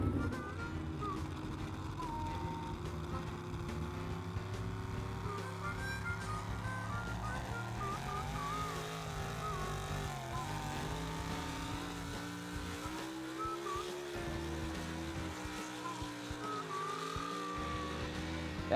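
A Ford pickup truck strains during a truck pull, its engine droning and revving continuously at moderate distance for the whole stretch, with crowd murmur and voices faintly in the background.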